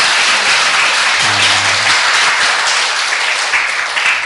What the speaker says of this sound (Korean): 환영의 박수를 한번 해주시기 바랍니다